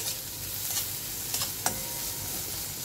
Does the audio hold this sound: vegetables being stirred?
yes